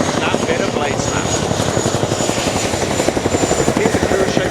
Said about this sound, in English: We know the best noise in the world, that bit of blade snap.